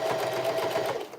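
Sewing machine backstitching a bucket hat, a fast continuous whirring stitch at close range, loud and steady for just over a second before easing off.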